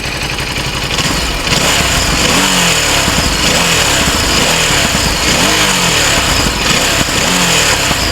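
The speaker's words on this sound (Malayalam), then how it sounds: "സ്റ്റോക്ക് എക്സോസിൽ അക്രമമാണ്, റഫ്നെസ്സാണ്, അഗ്രഷനാണ് കേൾക്കുന്നത്" A Ducati DesertX motorcycle with its stock exhaust revs loudly and close up, its rough, aggressive engine note rising and falling through several throttle blips over a steady idle.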